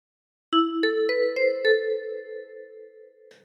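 A 10-key kalimba plays the opening phrase of Bella Ciao: five plucked metallic notes in quick succession, the last ringing on, with a faint soft knock near the end, close and unaccompanied.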